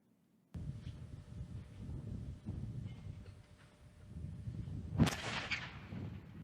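A hydrogen explosion in a container plays in a test video: a low rumbling hum builds for several seconds, then one sharp, loud blast cracks out, followed by a rolling roar that slowly fades.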